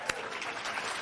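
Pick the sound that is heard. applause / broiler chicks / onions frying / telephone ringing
applause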